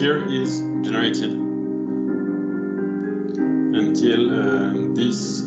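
AI-generated piano music: sustained piano chords play continuously at moderate volume, with bright higher notes drifting in and out above the low harmony.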